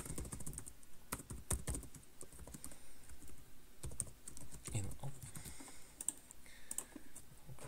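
Quick, irregular clicking of a computer keyboard as code is typed, quiet and close, in short bursts with brief pauses between keystroke runs.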